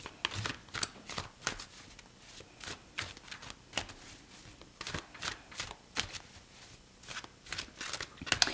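Tarot cards are shuffled by hand for a reading: quiet, crisp riffling and flicking in irregular bursts, repeated again and again with soft pauses between.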